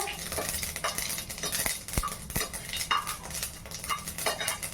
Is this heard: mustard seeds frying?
yes